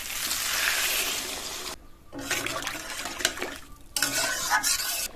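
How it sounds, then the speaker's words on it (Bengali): Fish curry broth with partly cooked potatoes boils in a pan, giving bursts of bubbling and hissing broken by short quiet gaps, close and moderately loud. "ঝোলটা টকবক করে ফুটছে"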